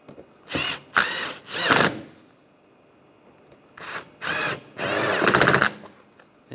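A power tool drives radiator bolts on a 2010-2016 Cadillac SRX in five loud, close whirring bursts, three quickly together, then a pause, then two more.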